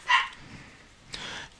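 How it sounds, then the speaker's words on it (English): A small purse dog yaps twice, one short bark and then a longer one, fairly close in an indoor room with no talking. "Don't mind that, that's just my dog."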